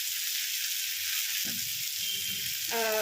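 Sliced onions frying in hot oil with a pinch of salt, a steady close sizzle throughout with a few soft stirring scrapes and a brighter crackle near the end.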